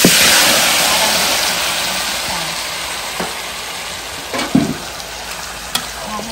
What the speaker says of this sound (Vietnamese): Giờ mình sẽ xào như thế này, mình cho nó tỏi thơm vô.